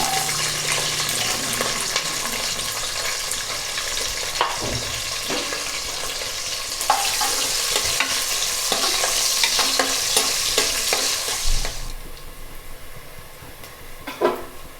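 Whole spices, green chillies and onion sizzle steadily in hot oil for a gonguura chicken pulao, a loud continuous fry with occasional stirring clatter, the sizzle thinning toward the end.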